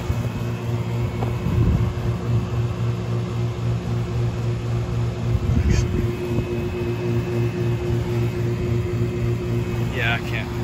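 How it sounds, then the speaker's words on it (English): A 1988 York Stellar air conditioner with a Bristol reciprocating compressor runs with a steady, droning hum and low mechanical rumble, with occasional soft knocks and a faint high ring over the constant tone. "That was a startup of a late 80s York Stellar."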